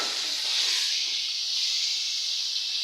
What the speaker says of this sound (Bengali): এই যে আমি এখন বাটা মাছ ভাজতেছি